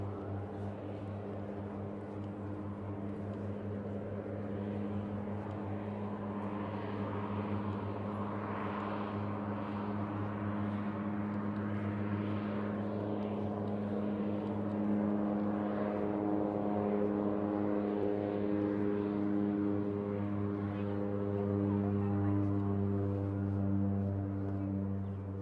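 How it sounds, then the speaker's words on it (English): A seaplane drones overhead along the Stanley Park seawall in Vancouver, a steady low propeller engine hum with strong harmonic tones that holds at a moderate distance throughout, with no talking. "Oh, there's a seaplane."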